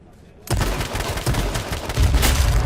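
Shotgun blasts in the battle-royale video game H1Z1, loud close bursts of gunfire following a brief quiet start, with repeated heavy shots over dense game noise.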